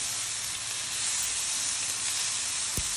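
Tomatoes and cashews sizzle while frying in a pan for a malai kofta gravy. The hiss is steady, close and moderately loud, with one faint clink near the end and no voices.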